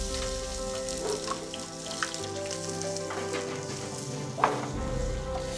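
Onions frying in a pan in a professional chef's kitchen, a soft continuous sizzle with a few sharper crackles and small knocks, heard quietly over a steady low background hum.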